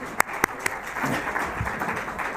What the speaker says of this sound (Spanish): Un fuerte aplauso de despedida